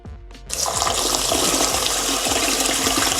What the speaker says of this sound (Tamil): இனி இப்போ நாங்கள் அரிசி கழுவி எடுக்கலாம்.